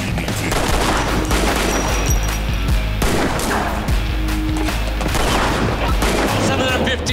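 Gunfire rings out in a parking garage during a TV police drama scene, with dense rapid bursts of shots echoing loudly and continuously over a heavy low rumble, while voices talk in between.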